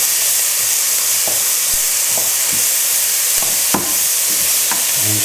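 Chorizo sizzles steadily in a frying pan for a one-pot Basque chicken, with scattered scraping knocks as it is stirred and mixed through; loud, close and continuous, with no talking.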